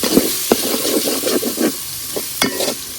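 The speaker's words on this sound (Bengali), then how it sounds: "এখন দিয়ে দিতেছি পেঁয়াজ কুচি।" Cubed chopped onions fry in hot oil for a spiced liver curry, a steady loud sizzle broken by repeated scraping stirs of the spoon against the pan.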